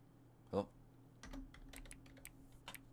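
Clicks of a computer keyboard typing, scattered and fairly close: a burst of quick keystrokes, then a run of sharp separate taps, over a low steady hum.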